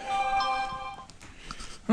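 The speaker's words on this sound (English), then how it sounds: "now my phone's gonna start going off" A phone ringing with a bright repeating electronic tone that fades out, followed by faint clicks and a brief rise at the end.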